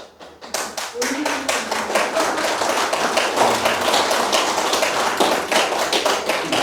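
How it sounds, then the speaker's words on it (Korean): Audience applause, a dense, steady clatter of many hands clapping, swells quickly and carries on at even volume through a hall during a lecture about Korean prehistory. "박수까지 바란 건 아닙니다."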